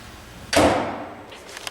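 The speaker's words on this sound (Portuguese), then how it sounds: "Até que ela ouve um barulho de porta batendo." A single door slam hits sharply, with a loud sudden bang that decays over about half a second. Faint room noise follows.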